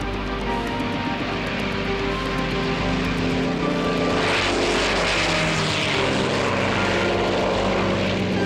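Loud, steady drone of a propeller airplane engine with a throbbing hum and rasping overtones, continuous throughout and close up.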